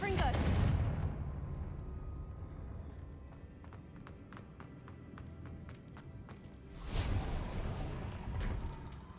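Confringo fire spell blasts in Hogwarts Legacy: two heavy, rumbling bursts, one at the start and another near the end, with scattered sharp crackles and ticks between them.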